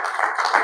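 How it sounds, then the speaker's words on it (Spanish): Church congregation applauding together during a Spanish-language Bible teaching service, a dense, steady burst of many hands clapping at close range, alone without talk. "Den un aplauso a Cristo."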